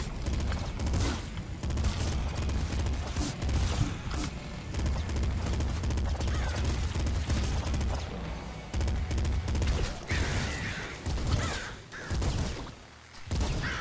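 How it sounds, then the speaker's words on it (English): Rapid bursts of retro video game gunfire from a double shotgun in Nuclear Throne, loud and dense, with repeated blasts and chaotic explosions running through most of the stretch. "This double shotgun is a godsend."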